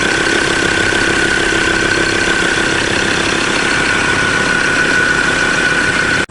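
A Mazda BT50 engine idles after a fuel filter change, running smoothly with a loud, steady, even hum and a constant whine, then cuts off abruptly at the end.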